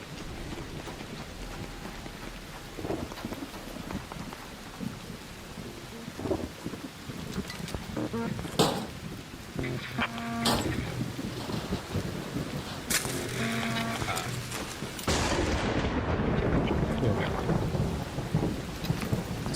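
Thunder rumbles through steady rain inside the ARC Raiders video game, a low sustained roll with a few sharp crackling strikes midway and heavier rainfall noise swelling toward the end.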